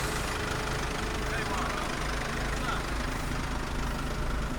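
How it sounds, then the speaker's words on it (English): A car engine idles steadily and close by at a fracking site, a constant low rumble with a faint hum, with someone talking over it. "the engine's running with no driver"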